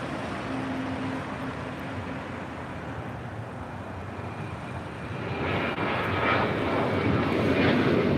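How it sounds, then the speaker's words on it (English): An Alaska Airlines Boeing 737-900ER takes off from LAX, a moderate distant engine rumble swelling and brightening toward the end as thrust builds, with no one talking. "This is Alaska Airlines 1348 taking off to Puerto Vallarta"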